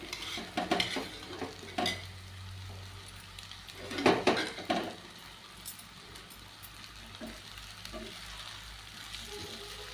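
A spoon turns flattened rice upma frying in a pan, with intermittent scrapes and clinks against the metal over a low, steady sizzle and no talking.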